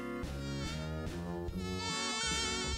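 Cartoon mosquitoes buzz in a cluster of bright, wavering electronic tones that shift pitch in short phrases, sustained and fairly loud with no speech.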